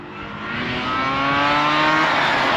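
A Mazda RX8 R3 rotary engine revs steadily up to the red line, its smooth rising whine climbing in pitch over a couple of seconds, close and fairly loud, with no talk.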